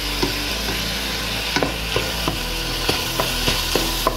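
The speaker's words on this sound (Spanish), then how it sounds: "ya tiene aproximadamente unos 10 minutos pochándose la verdura, la zanahoria, la cebolla y el apio" Carrot, onion and celery sautéing in a pan, a steady sizzle broken by repeated soft scraping taps of stirring, alone with no talk.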